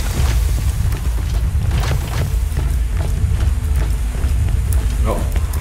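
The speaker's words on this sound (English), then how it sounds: "Put the rest of Tina's explosives on those safes and watch the fireworks." Explosives detonating on safes aboard a payroll train in the Borderlands video game: a dense, loud, continuous roar of booms and crackling debris with repeated sharp blasts, and voices mixed in underneath.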